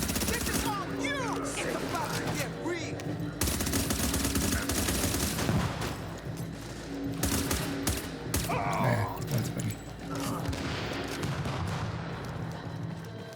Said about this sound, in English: they're swinging that RPK around.